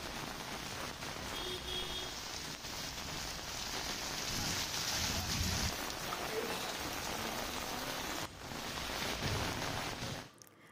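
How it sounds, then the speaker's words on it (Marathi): Heavy morning rain pours down at Jejuri, a dense continuous hiss of drops on surfaces that stays loud and even for about ten seconds, with no voices. "जेजुरी परिसरात आज सकाळी दमदार पावसाने हजेरी लावली आहे."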